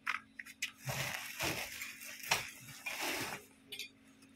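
Potting soil is worked by hand with compost, vermicompost and neem cake while repotting a ficus lyrata, giving quiet, irregular crunchy scrapes and gritty rustles in short bursts.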